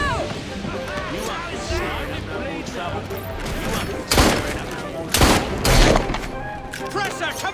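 Gunfire erupts in the Assassin's Creed Syndicate video game, a dense volley of shots with several loud booming blasts near the middle, layered over constant battle clamor and background voices.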